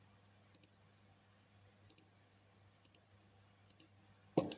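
Computer mouse clicks while working in SketchUp Layout, coming in quick double clicks spaced about a second apart over a faint steady hum, with a louder, brief clatter at the very end.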